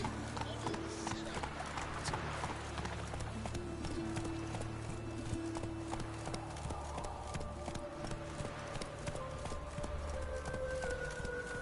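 Horse hooves clip-clop steadily at a run in The Witcher III: Wild Hunt video game, a continuous rhythmic beat carried under music and ambient sound, with a voice talking over it.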